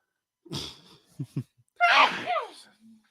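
A few short breathy gasps and intakes lead into one loud, close sneeze, followed by a faint trailing breath.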